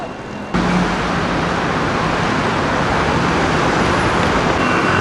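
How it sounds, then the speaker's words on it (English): Busy city traffic in Taipei with cars and scooters, a dense continuous roar of engines and road noise that swells abruptly after a quieter first half-second, then holds steady and loud throughout. "I'm not used to this traffic anymore. It's crazy. Too many red lights, too many cars, too many scooters."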